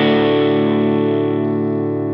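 High-end hiss from a Line 6 Helix with an EQ boost cranked to maximum at 3.1 kHz, a steady, bright, distorted-sounding tone that holds evenly without a break for the full two seconds, with no voice.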